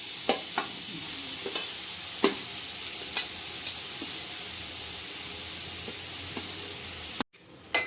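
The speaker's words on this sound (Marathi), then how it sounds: "किसलेला गाजर टाकायचंय तुपामध्ये आणि परतून घ्यायचंय." Grated carrots sauté in ghee in a pan over a low flame with a soft, steady sizzle. Intermittent light scrapes and taps of stirring sound up close, and there is no talking.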